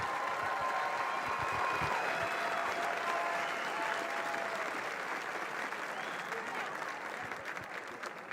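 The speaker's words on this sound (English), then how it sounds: "How about another round of applause for our 2017 Class A champions?" Sustained, dense crowd applause fills a championship arena for the 2017 Class A champions, steady and loud throughout with a slight fade near the end.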